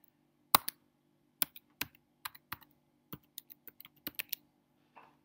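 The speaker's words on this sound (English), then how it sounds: "So I'm going to type in something more memorable in this field." Keys on a computer keyboard are tapped in short irregular bursts while a new password is entered, crisp clicks sounding close and alone over a faint steady hum.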